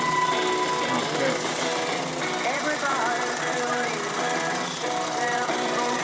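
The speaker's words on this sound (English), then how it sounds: "The engine here, running a small alternator, operates this radio." A small Stirling engine driving an alternator to power a portable radio runs with a steady, busy mechanical clatter and hum. A voice talks over it for much of the time.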